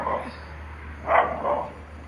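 A dog lets out three short barks, one early and a louder pair near the end, as it confronts a cobra, fairly close with quiet pauses between.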